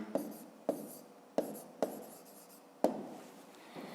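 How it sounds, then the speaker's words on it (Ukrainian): A pen writes an answer on paper during a fifth-grade math exercise, giving five sharp taps and short scratching strokes spaced about half a second to a second apart, close and moderately quiet with no talk. "Ну, а тепер записуємо відповідь, пишемо відповідь"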